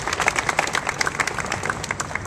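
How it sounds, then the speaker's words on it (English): A live audience applauds together for community partners at a mayoral announcement, steady dense clapping with no speech, sustained and moderately loud across the whole stretch. "Let's give all of them a round of applause"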